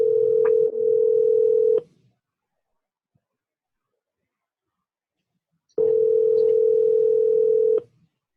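Telephone ringback tone on an outgoing call, two loud steady buzzes of about two seconds each separated by roughly four seconds of silence.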